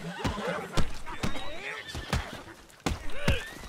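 A horse in Red Dead Redemption 2 whinnies and snorts in a few rising, wavering calls, with hoof clatter and other game sounds beneath.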